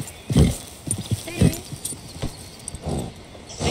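Horse hooves clopping on the ground with a brief whinny, close by, at an outdoor Wild West adventure park, mixed with people talking.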